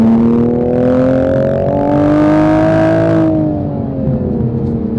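A 2021 Toyota Supra A90's stock exhaust burbles loudly and steadily at idle, a deep throbbing rumble with a slight rise in revs before settling back down.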